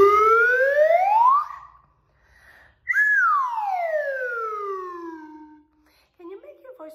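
A toy slide whistle sweeps up in pitch, pauses, then glides back down in a long falling tone, loud and close, followed by a brief soft voice.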